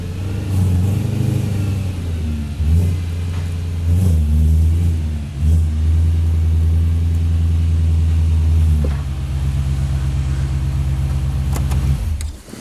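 BMW M3 engine revving hard, a loud deep rumble that climbs and settles through several throttle blips before a longer steady rev, close by with no talk over it.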